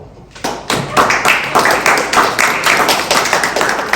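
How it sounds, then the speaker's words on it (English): Audience clapping at a speaker event in Trump Tower, New York: a dense, loud, rhythmic run of handclaps that starts abruptly and holds steady, close by, with no talk over it. "the audience should be appreciative and give a customized clapping for Dr."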